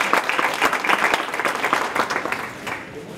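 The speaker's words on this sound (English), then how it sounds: "I want you to give him a hearty round of applause" A hearty round of applause for a public schools superintendent at a panel event, a full room of clapping that holds steady and eases slightly toward the end.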